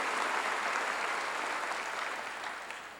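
Church congregation applauds during a sermon, a steady wash of dense clapping that holds evenly and tapers slightly near the end, with no speech over it.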